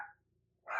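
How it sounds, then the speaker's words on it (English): A dog named Ruby barks from a bedroom window elsewhere in the house, two short, muffled barks separated by a brief pause, somewhat distant and faint. "You can hear Ruby barking back in the bedroom at her window."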